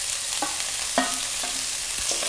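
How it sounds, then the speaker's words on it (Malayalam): Nithya vazhuthana thoran being stirred in a frying pan, with a few scattered scrapes and clinks of a spoon against the pan over a faint, steady background hiss. "നല്ലതുപോലെ ഇളക്കി കൂട്ടി അങ്ങ് വയ്ക്കണം."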